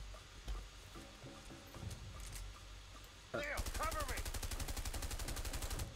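A Way Out video game gunfire, a few scattered shots first, then a loud, rapid machine-gun burst with evenly spaced rounds that runs to the end, with a person talking underneath.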